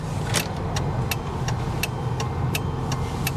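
Steady low engine rumble from a former police car bought at a Copart auction and running rough, heard from inside while it drives, with a sharp ticking click repeating roughly every third of a second.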